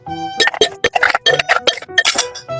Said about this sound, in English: I have added some ice cubes to my martini glass, and now I've got my mixing jug, and I will add some ice cubes to